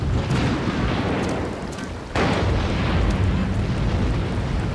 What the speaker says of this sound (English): That is a bad storm.